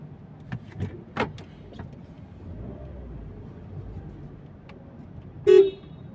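Street traffic idles and rolls past at a moderate distance, with a few short thumps and a sharp, loud car horn toot near the end.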